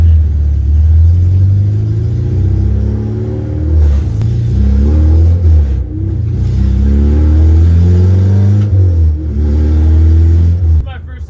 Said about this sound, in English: It's open header right now and it's missing 2 studs for the exhaust manifold. So it's definitely leaking exhaust from the header and it's just open header.